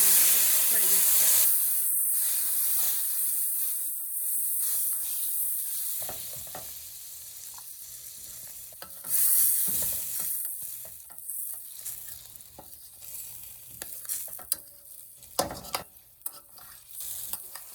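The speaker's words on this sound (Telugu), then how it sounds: "టమాటాలు వేసుకొని ఫ్రై చేసుకోవాలి." Tomato paste fries in oil in a pan for a dhaba-style paneer masala curry, a loud hissing sizzle at first that settles into softer spluttering with intermittent stirring scrapes and pops.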